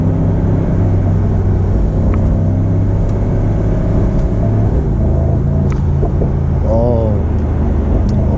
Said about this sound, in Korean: 배기 플립도 열려가지고 상당히 이제 AMG스러운 소리도 잘 나고 있습니다